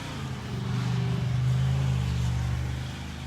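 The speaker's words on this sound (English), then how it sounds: "Sorry about the road noise, guys" Road traffic beside a front-yard flower bed, a single car swelling up and passing by with a low engine drone that peaks midway and fades, moderately loud.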